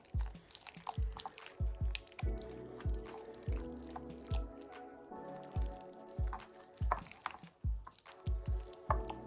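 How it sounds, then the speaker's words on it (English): Ricotta cheese and an egg being mixed in a bowl, giving repeated wet, squishy strokes in a steady rhythm, close and fairly loud. "You just make sure you mix all the egg and ricotta cheese together."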